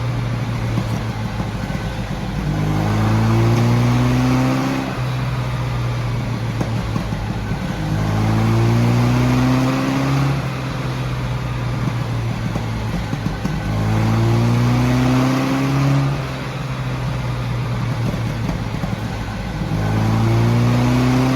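A loud MG Midget 1330 race car engine revs up and down repeatedly on a rolling road in a steady cycle, rising and falling pitch, close and continuous with no talk.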